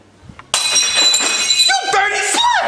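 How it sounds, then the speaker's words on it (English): Glass breaks with a sudden loud crash and a bright, ringing scatter of shards lasting over a second, followed by a short raised voice over the tail end. "You just broke glass!"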